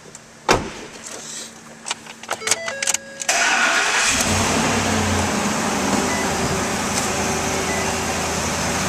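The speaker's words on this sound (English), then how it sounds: "And now we'll start up this vehicle." A 2012 Ford F-250 Super Duty pickup is started: a few clicks and clunks inside the cab, a short crank, then the engine catches and settles into a steady, loud idle.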